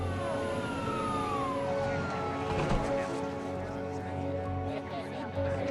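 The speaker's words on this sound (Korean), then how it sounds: "갑자기 활주로에 경찰과 구급차가 들이닥칩니다" Emergency sirens from police cars and ambulances rushing onto an airport runway, steady wailing tones under a loud constant rumble of engines and wind, with no clear break in the sound.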